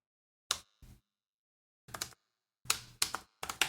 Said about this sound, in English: I like the sound of the keyboard.